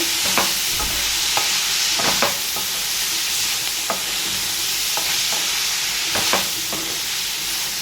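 Cluster beans and onions cook in a pan with a continuous sizzle, broken by repeated sharp scrapes and taps of a spoon stirring against the metal, with no voices.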